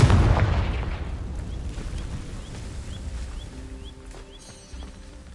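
A Confringo fire spell blasts off in Hogwarts Legacy, a loud booming burst at the start that rumbles and decays over several seconds into a low crackling tail, with faint magical chimes drifting above.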